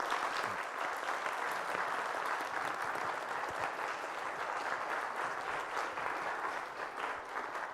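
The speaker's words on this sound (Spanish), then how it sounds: "para quien pido un gran aplauso" An auditorium audience claps to welcome neuroscientist Richard Andersen at the El Aleph 2018 science event, producing sustained, even applause that holds at a constant level for several seconds with no voices on top.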